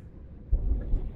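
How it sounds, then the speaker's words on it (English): Thunder in the video game Subnautica, a deep low rumble that swells suddenly and rolls on loudly to the end, with no voices over it. "That was a big thunder hit."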